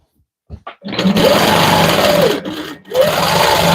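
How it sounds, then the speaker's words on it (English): A sewing machine runs in steady bursts as it stitches a quilt, its close, loud motor whir starting after a few quick clicks, pausing briefly twice, then surging back up. "So I'm going to stitch 1/2 inch away from this particular line."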